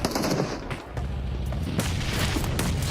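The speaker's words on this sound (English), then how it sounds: "So many nades thrown at Toshpik" Grenade blasts and rapid gunfire from a PUBG Mobile esports match, loud and dense with bursts of automatic fire layered over booming explosions, almost no pause throughout.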